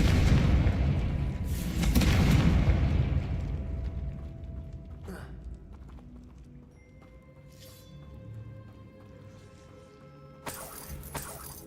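A Confringo spell in Hogwarts Legacy erupts in booming, rumbling explosions, followed by crackling debris, shimmering magical tones and a later sharp burst, all loud and close within game audio.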